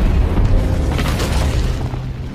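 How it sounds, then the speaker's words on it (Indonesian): An explosive bullet detonates inside the mouth of the monster Rathalos in a film, a loud, deep booming blast that rumbles steadily for a couple of seconds with no voices over it. "Alhasil peluru itu pun meledak sampai menghancurkan mulut serta tenggorokan Rathalos."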